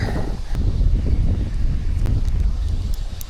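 Strong wind gusts over the Dnipro river, heard as loud continuous rumbling buffeting close to the microphone, with faint clicks and rustles underneath.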